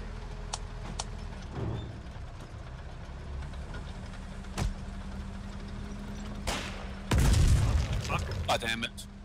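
A high-explosive grenade blast in the war game Foxhole comes as a loud, heavy boom late on, over a low engine-like drone with scattered sharper bangs and a voice talking now and then.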